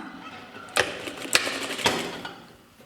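A sewing machine runs a short half-centimetre seam on a shirt, three brief mechanical bursts of clattering stitching separated by pauses, close and moderately loud with a faint hum underneath.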